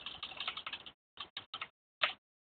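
Computer keyboard keys pressed in quick bursts while setting up a game: a dense run of typing for about a second, then three short separate presses and one final louder tap, close and alone.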